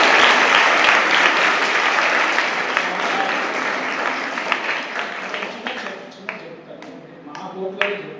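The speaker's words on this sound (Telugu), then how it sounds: "ఫస్ట్ మీ అందరికీ ఒకసారి గట్టిగా క్లాప్స్ కొట్టారు." Audience at a girls' day event in a college hall clapping loudly, a dense sustained round of applause that gradually thins into scattered individual claps toward the end.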